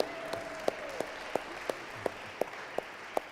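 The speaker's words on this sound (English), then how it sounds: "Give yourselves a round of applause" A worship service congregation applauds, a soft, steady wash of clapping with sharp, evenly spaced accents about every third of a second, heard from a distance throughout.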